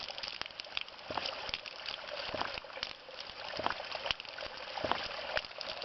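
Water runs through a long hose in an underground chamber of the Great Pyramid, a steady rushing trickle with frequent sharp irregular clicks and knocks of moderate loudness.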